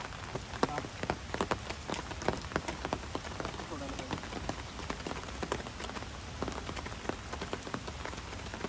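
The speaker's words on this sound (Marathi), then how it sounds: "पाऊस पण चांगला आहे हा एकदम धोधो पाऊस पडत नाही" Rain falling outdoors near a river in rural Konkan, a dense steady patter of drops striking surfaces, with sharper close drips scattered throughout; moderate, continuous and without talking.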